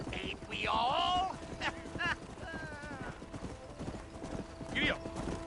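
Horse hooves clip-clopping at a riding pace in the Western video game Red Dead Redemption, with whinnies and character voices talking over the steady hoofbeats.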